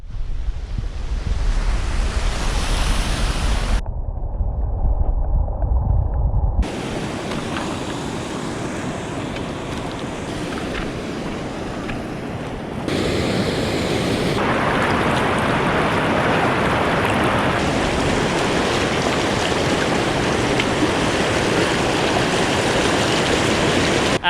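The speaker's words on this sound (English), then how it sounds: "we have finally cleared the white water" White water on the James River rushes continuously and close by, a loud, dense roar of churning current with no voices, the noise shifting in character as the vantage moves along the rapids.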